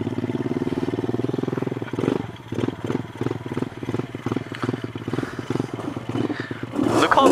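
A motorcycle engine with starting trouble chugs and putters unevenly, with uneven pulsing cranking and a rough idle, then revs louder toward the end.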